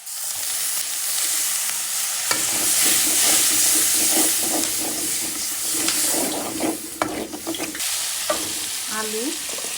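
Spices frying with salt in a pan while being stirred, a loud continuous sizzle and hiss broken by scraping spoon strokes, close and without talk.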